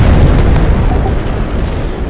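Nuke detonation in a multiplayer war video game: a loud, sustained low rumbling blast that fills the whole stretch, dense and booming without letting up.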